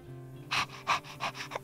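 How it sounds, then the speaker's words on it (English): A person voices a wolf's panting in the WolfQuest video game: five short, breathy bursts in quick rhythm, close and fairly loud. "How do you pant? Like panting noises?"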